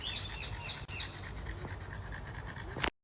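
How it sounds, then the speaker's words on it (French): Several bright bird chirps repeat in a quick series, then sparse calls over quiet outdoor ambience, ending with a short sharp click. "on est là et on écoute les oiseaux"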